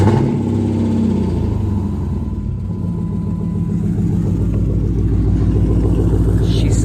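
A 345 Hemi car engine runs loud and close with a deep, steady rumbling idle that rises slightly in revs toward the end, with a failing power steering pump.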